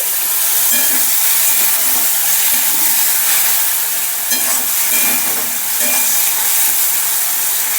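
Water poured into a hot cooking pan sets off a loud, steady hiss and sizzle that fills the whole stretch, rising briefly in a few bursts, with no talking.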